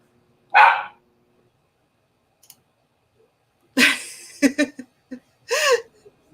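A pet dog barks indoors, one sharp bark, then a pause and a quick burst of several barks followed by another.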